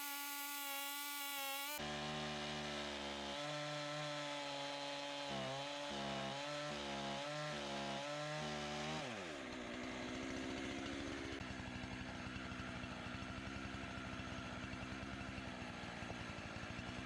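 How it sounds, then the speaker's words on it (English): A Husqvarna 3120 XP chainsaw with a 42-inch bar starts with a loud roar, revs in a series of pulsing bursts, then bogs down into a rough, rasping cut through burl wood, nearby and continuous. "It's a 3120 XP from Husqvarna with a 42-inch bar on it."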